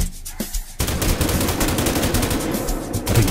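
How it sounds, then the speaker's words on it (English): Rapid automatic gunfire in the video game GTA, set in Mzansi, hammers almost continuously at close range after a brief lull, loud and unbroken for several seconds. "We're gonna have to shoot, bro."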